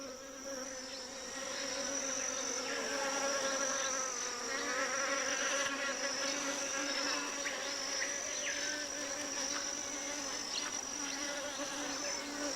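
Wasps buzz continuously in a tropical rainforest, a dense steady insect drone with layered wingbeat whines, close and fairly loud throughout with no voices.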